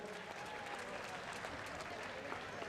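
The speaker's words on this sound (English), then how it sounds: "Give a round of applause to the Sling Blade crew here from Meadville" An audience at a combat robot competition applauds a robot team, a steady, fairly faint spread of clapping from a crowd with no pauses.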